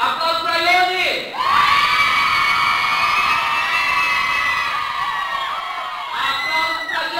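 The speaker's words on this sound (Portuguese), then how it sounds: "Aplausos para Ione!" A children's Christmas party crowd at a daycare bursts into loud, sustained cheering and shrieking for Ione after a brief pause, with high children's voices dominating and a few shouts near the end.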